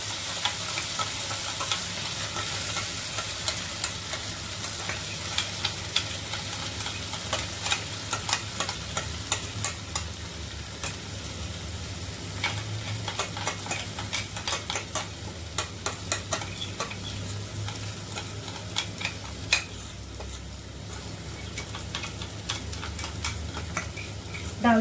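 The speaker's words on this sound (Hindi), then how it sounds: "डाल दिया पेस्ट और अब 3 से 4 मिनट तक इसको हम भूनेंगे" Masala paste for paneer pepper Chettinad fries in oil over low heat, a steady close sizzle with a regular run of ticking spoon scrapes and taps against the pan as it is stirred, with no talking.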